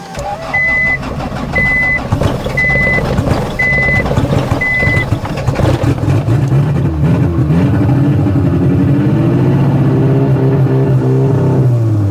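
Honda Civic engine idling and revving as it warms up after sitting unused, a steady low rumble that rises and swells in pitch toward the end, with a repeating electronic beep early on.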